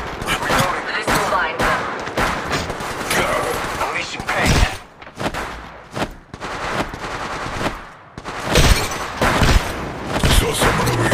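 Gunfire in the mobile battle royale game Apex Legends Mobile: close, loud bursts of automatic fire and booming shots in quick irregular clusters, mixed with in-game voices and chatter.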